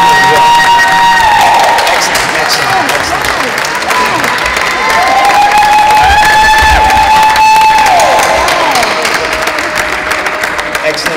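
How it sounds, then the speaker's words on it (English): Loud, sustained applause and cheering from an audience at an oratorical contest, with whoops and shouted voices, some high-pitched like children, rising over the clapping throughout. "Can we give the contestants a round of applause?"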